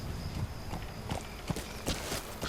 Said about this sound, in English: Chamar o cavalo.